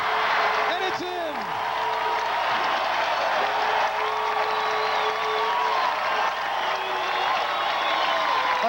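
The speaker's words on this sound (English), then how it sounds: "Adam Johnson has ignited the crowd at Madison Square Garden with great plays" A large indoor crowd at Madison Square Garden roars, cheers and applauds during a 1995 pro beach volleyball final, loud and sustained throughout, with whoops rising above the steady clapping.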